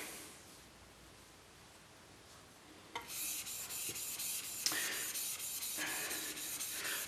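Rhythmic rubbing passes of a new No. 7 hand plane blade being sharpened on abrasive grit; a faint hiss at first, then louder, steady scraping strokes with a couple of sharp ticks, close up and with no talking.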